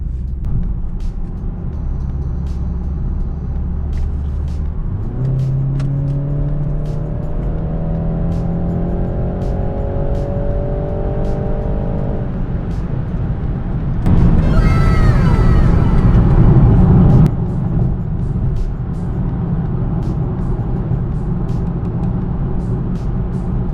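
A 2020 BMW 330i xDrive cruises at night with a steady low engine drone and road hum, a rising tone as it accelerates midway, then a brief louder rush of passing noise before settling back to an even hum.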